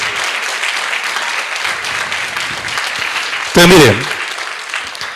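A church congregation claps through a sermon in a sustained wash of applause, with a brief spoken word and a sharp, louder burst near the end.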